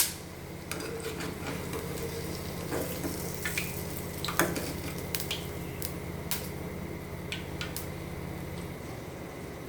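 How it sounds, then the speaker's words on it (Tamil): Fried paneer cubes tumble into a cauliflower gravy, giving a steady wet sizzle with soft squelching stirs and scattered sharp clinks of a spoon against the pan, close and continuous throughout. "பன்னீர் எப்படி எண்ணெயில் பொரிப்போமோ லைட்டாக அதே போல் பொரித்து இப்போ அந்த கிரேவியில் சேர்த்துறேன்"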